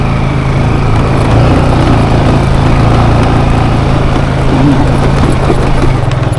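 A Yamaha NMAX scooter engine strains steadily as it climbs a steep uphill road toward a mountain camp in Davao del Norte, with a constant loud droning hum and no pauses.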